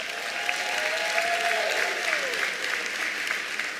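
Large audience of over a thousand at a ministerial results announcement giving a big round of applause, dense sustained clapping with a faint whistling tone rising above it early on.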